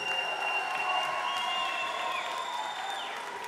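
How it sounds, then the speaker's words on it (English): Crowd at a boxing event in Hallandale, Florida applauds and cheers both fighters, a steady wash of clapping and crowd noise with faint sustained tones ringing through the arena. "let's have a nice round of applause for both fighters"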